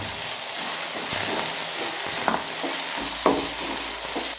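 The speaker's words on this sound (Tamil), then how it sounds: "எல்லாத்தையும் போட்டு மிக்ஸ் பண்ணி வதக்கிடுங்க." Fresh mint and coriander leaves being sautéed and stirred in a pan for a prawn biryani-style gravy. A steady sizzle runs underneath, with a few soft stirring knocks and scrapes.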